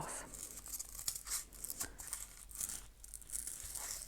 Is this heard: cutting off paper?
yes